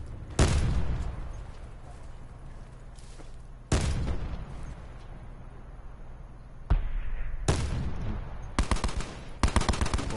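Video game gunfire, several sharp loud shots and rapid automatic bursts at irregular intervals over a constant background hum, ending in quick back-to-back volleys.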